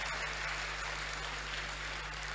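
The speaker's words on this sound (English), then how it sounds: "Keep clapping till they get here." Audience applause at a youth empowerment summit, a steady wash of clapping filling the hall throughout, loud and continuous with no talk over it.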